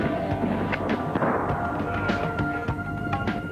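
Avalanche control cannon firing explosives at a ski area before the slopes open, a series of sharp booms and thuds over a rumbling, noisy outdoor background.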